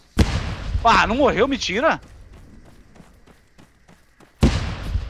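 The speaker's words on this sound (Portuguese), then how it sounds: "eu joguei duas granadas certinho atrás dele" Two loud grenade blasts in the Arma 3 battle royale game, one near the start and another near the end, with excited talk between them.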